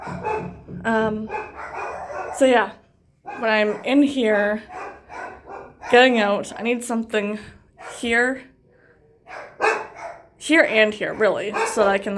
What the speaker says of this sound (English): I don't know if you can hear the dogs barking either.